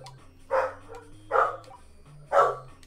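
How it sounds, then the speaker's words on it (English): Three loud pit bull barks, evenly spaced about a second apart, close by, with a low hum in the background and no talking. "Oh, yeah. That's my dog."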